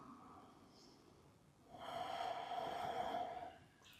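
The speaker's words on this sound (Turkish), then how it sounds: "Son bir nefes daha." Deep, slow breathing during a beginner yoga practice: a quiet inhale and then a longer, fuller exhale through the nose, close by and soft.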